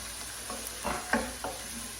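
Onions softening in a pan give off a quiet, steady sizzle, with a few soft stirring scrapes and clicks over a couple of seconds and no talk.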